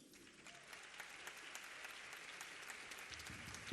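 Sustained applause from a concert audience of students and families, steady dense clapping throughout at moderate distance, honoring an actress at a school performance.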